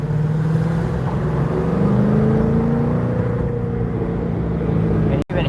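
Steady low exhaust drone from the pipes of a 2013 LS3 C6 Corvette while driving, droning continuously and loud, with a brief sharp click near the end.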